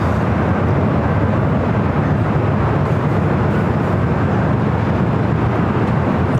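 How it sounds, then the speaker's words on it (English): A JetBlue Airbus A320 arriving at LAX from Fort Lauderdale produces a loud, continuous, broadband roar that holds steady throughout, with no one talking. "Which is the flight coming in from Fort Lauderdale. It's an A320."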